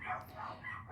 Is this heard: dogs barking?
yes